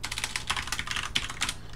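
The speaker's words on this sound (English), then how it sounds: "I do tend to type fast." Fast typing on a computer keyboard during a programming lesson, a quick, irregular patter of light key clicks close to the microphone, fairly quiet and with no talk.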